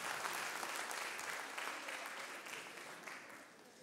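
Audience at a solo concert clapping steadily for the choreographer, a dense wash of many hands that stays strong and fades slightly toward the end.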